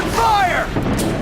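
Gunfire and heavy weapon blasts sound during a combat encounter in The Bureau: XCOM Declassified, with sweeping, whooshing shots over a dense, loud battle backdrop.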